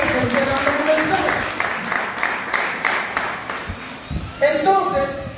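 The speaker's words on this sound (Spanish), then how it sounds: "Denle un aplauso a Dios." A congregation at a church service applauds God in a sustained wash of clapping, while a preacher's voice carries on over the top.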